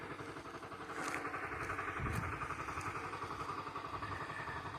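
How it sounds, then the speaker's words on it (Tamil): A tractor engine runs near a river with a rhythmic, chugging mechanical beat, steady and moderately close, with a few brief clanks over the throb. "டிராக்டர் சவுண்டே மியூசிக்கலாக இருக்குது."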